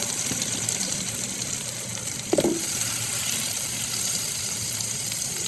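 Cut potatoes frying in a pan of spiced masala, a steady bright sizzle with a brief clatter partway through, close and continuous with no talk.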